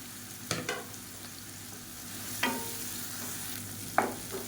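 Onions with salt and green chillies sauté in a pan, a soft low sizzle under a few distinct scraping stirs of a spoon, fairly quiet and close.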